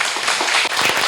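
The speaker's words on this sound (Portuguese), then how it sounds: "Então aplauda Jesus" A church congregation applauds during a service, a loud close burst of many hands clapping for about a second.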